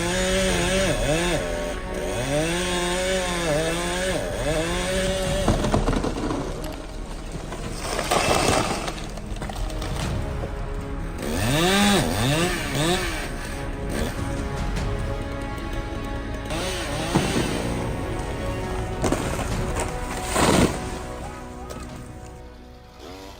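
A 93.6 cc chainsaw weighing 7.9 kg cuts down an ancient tree, its engine revving up and down in repeated surges over a steady loud drone, with no voices.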